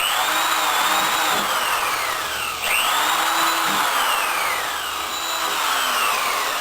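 A power drill whines steadily while boring into the upper edges of boat panels, its pitch sweeping up and down as the load changes, close and continuous with no voices.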